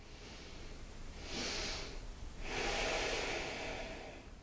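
Slow breathing from a person lying down during a neck exercise, with two airy breaths close to the mic over a soft background hiss.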